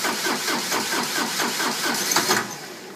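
A John Deere 4100 tractor cranking over on a cold start, the starter churning in a fast, even rhythmic chug, loud and close, for about three seconds without the engine catching.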